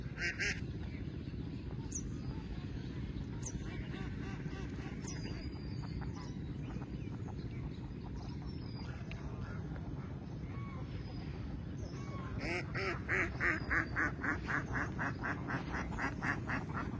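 A large flock of ducks quacking outdoors on an overcast day, a continuous busy chorus of calls that grows louder and denser toward the end over steady background noise, with a voice heard briefly.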